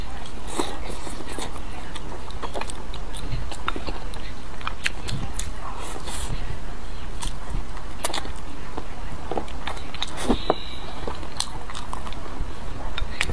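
Sweet and sour chicken wings are chewed up close during a mukbang, with wet bites, squishy chewing and a few sharp crunches over a steady background hum.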